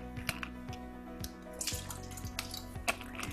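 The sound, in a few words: pouring different bottled waters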